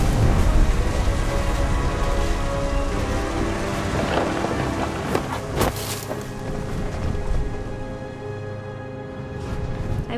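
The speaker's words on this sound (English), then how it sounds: "Thunder sounded much too close and full of angry power." Steady rain pours and hisses in the video game What Remains of Edith Finch, with deep thunder rumbling through it, close and heavy throughout.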